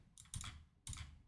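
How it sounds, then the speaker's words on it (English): Quick bursts of keystrokes on a computer keyboard as a code is typed in, two short clusters of close, soft clicks separated by a brief pause. "we need to type in this code right here"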